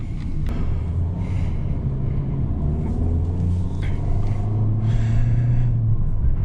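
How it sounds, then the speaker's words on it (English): A steady low engine hum and rumble fills the interior of a 2022 Peugeot 508 GT driven in sport mode, continuous and moderately loud throughout with no speech. "In sport mode, we can feel the engine noise slightly inside the cabin."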